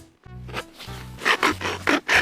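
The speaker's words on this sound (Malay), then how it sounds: "Sekarang kita akan buka daging dalam tin stalker." A tin of canned meat being opened in the Stalker video game, heard as a few short scraping, rasping bursts of metal tearing, close and fairly quiet.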